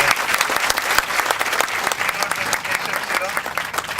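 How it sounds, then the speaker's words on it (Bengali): An audience at a talk on paperless university admission gives a short burst of dense, loud applause, with some voices mixed in. "সবাই আরেকবার একটু হাত তালি দিয়ে দেন"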